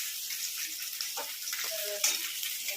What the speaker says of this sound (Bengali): তেল ফেল ছিটকাচ্ছে